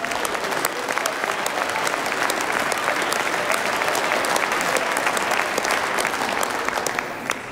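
Sustained applause fills the German Bundestag, a steady, dense wash of many hands clapping at an even level from start to finish, with no voice rising above it.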